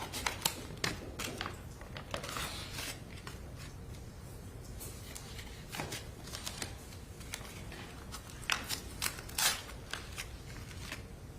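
Scissors snip in a quiet courtroom during a murder trial, a scattered series of sharp, fairly faint clicks and cuts coming in irregular bursts with no speech.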